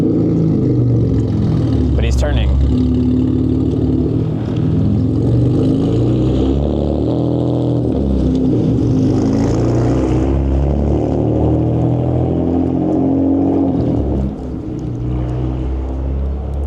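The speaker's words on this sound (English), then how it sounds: "Oh wow, I caught up to the really loud car." A very loud car drives along a city street in Toronto, its engine roar steady and close throughout, heard from a moving scooter with traffic rumble and a brief spoken comment.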